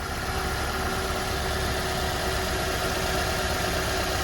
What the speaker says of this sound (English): First time car running with this new alternator, no problems.